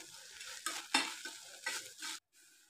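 A spatula stirs a tomato, salt and turmeric mixture in a pan, making close, uneven scraping and wet sizzling strokes in several bursts, with a light metallic clink before stopping.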